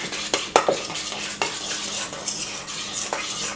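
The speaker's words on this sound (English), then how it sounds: "now I'm going to take my spoon and just get a good mixture in here" Spoon stirring a twice baked potato mixture in a bowl, with close scraping and clinking of utensil against the dish over a soft, continuous rustle.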